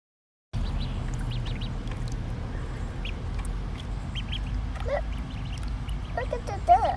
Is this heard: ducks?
yes